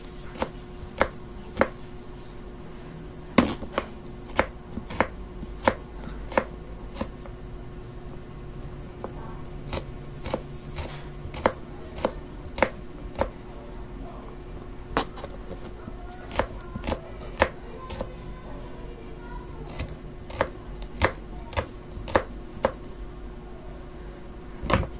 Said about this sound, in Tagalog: po natin ihiwain mga kabayabas ay ito pong ating bawang